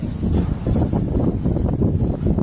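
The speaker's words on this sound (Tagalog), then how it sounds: "Medyo mahangin" Gusty wind buffets the microphone with a low, continuous rumble, loud and close, outdoors while polyethylene plastic wrap is installed as a moisture barrier.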